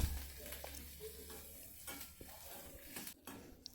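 Onions frying in hot oil with mustard seeds, green chillies and curry leaves for a greens and lentil bassaru palya, a steady close sizzle broken by scrapes and clinks of a stirring spoon against the pan.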